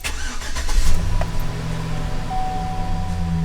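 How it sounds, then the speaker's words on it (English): A Chevrolet engine cranks briefly and catches, then settles into a steady close idle with no talk over it. "let's turn on this vehicle and let's see what we have"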